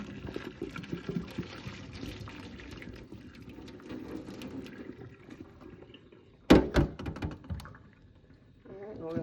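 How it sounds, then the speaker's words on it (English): Hot water is poured off a cooking pot into a sink, a rushing, splashing pour that starts abruptly partway through and runs on loudly, after a stretch of quieter kitchen noise and some talk. "we're gonna turn off the stove now and pour off the hot water"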